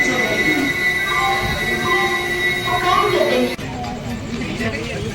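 Netravati Express passenger train rolling near Kannur, with steady loud rumble and wheel noise and squealing tones throughout, a sharp shift in character around the middle; faint voices blend into the din.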